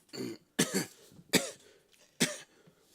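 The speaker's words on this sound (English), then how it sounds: "I have a bad cough." A person gives four harsh coughs, one after another at uneven intervals. The coughs are close and loud, with short quiet gaps between them.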